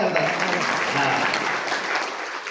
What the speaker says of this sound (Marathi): आपण सर्वांनी आपल्या करता टाळ्या वाजवा